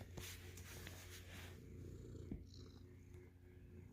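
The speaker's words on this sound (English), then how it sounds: "Listen to him purr." House cat purring close up, a soft continuous low rumble that runs steadily through the quiet room with no one speaking.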